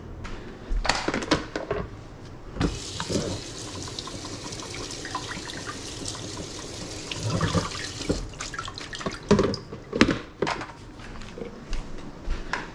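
A kitchen tap pours water while food is washed under it at a sink, producing a steady stream of splashing interrupted by sharper bursts and drips as the food is moved in and out of the flow.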